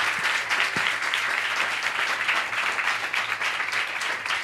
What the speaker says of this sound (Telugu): ఈ కుటుంబానికి, బ్రదర్ కుటుంబానికి అందరు గట్టిగా చప్పట్లు కొట్టండి